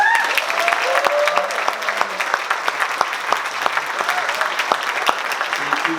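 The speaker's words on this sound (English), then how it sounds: "Now please welcome, with a big round of applause, the president of Friendship Place, Jean-Michel Jouin." Audience applause welcoming the president of Friendship Place at an honors event, steady dense clapping from a room of people throughout, with some faint voices mixed in.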